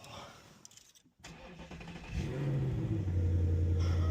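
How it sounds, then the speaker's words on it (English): Ford Mustang Dark Horse starting up: a quiet stretch, a brief starter crank, then the engine catches with a loud flare and settles into a deep, steady idle rumble. "Now the customer was nice enough to let me start the car, drive it into the garage"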